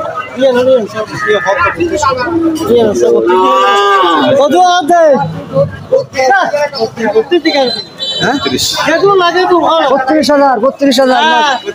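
Cattle and calves at a crowded livestock market low and moo loudly and close, long drawn-out calls overlapping and following one another almost without pause.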